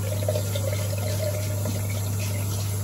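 Tap water runs steadily to wet shaving gear, a Razorock Tech II razor used with Mr Natty lime, basil and mandarin shave cream, heard as a continuous close stream over a low electrical hum.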